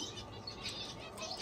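A pigeon flapping its wings in flight at a bird reserve, a short burst of soft, rapid wingbeats over a steady background hiss.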